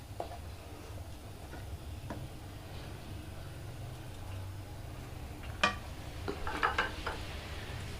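Sweet vermicelli kheer being stirred in a pot, a quiet low bubbling background with scattered soft ticks and a cluster of metallic spoon clinks against the pot near the end.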